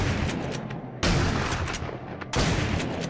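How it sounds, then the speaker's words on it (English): Two loud, close gunshots in the survival game 7 Days to Die, about a second apart. Each has a sharp attack and a long rumbling tail over a noisy background. "what are you shooting at?"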